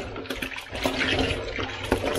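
A down jacket being hand washed and squeezed in a basin of soapy water, with close sloshing, squelching and dripping in uneven pulses and no talk.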